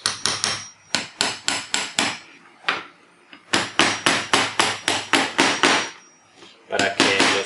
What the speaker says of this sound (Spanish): yo traigo acá un martillo con esta tabla